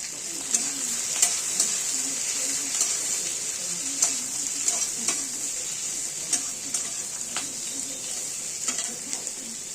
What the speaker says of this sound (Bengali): যতক্ষণ আমাদের এখানে পেঁয়াজটা আর মশলাগুলো ভাজা হচ্ছে